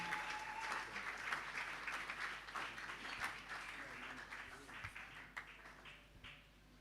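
A church congregation claps hands together in praise during a worship service, with a steady, dense patter of many hands, moderately distant, mixed with faint voices and a few sharper claps toward the end.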